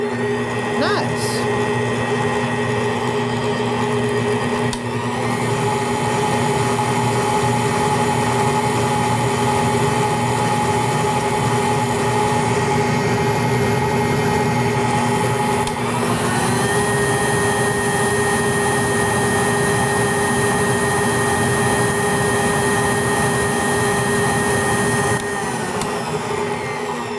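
A VIVOHOME 800-watt stand mixer running while mixing sugar cookie dough, a steady motor whine with a constant pitch that shifts partway through, continuous for the whole stretch.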